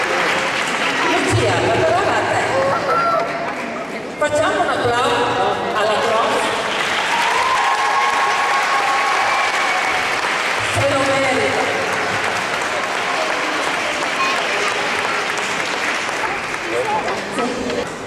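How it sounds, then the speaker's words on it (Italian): Sustained applause from an audience at a school award ceremony, dense, loud clapping that fills the whole stretch, with voices and crowd chatter mixed in. "Facciamo un applauso alla prof."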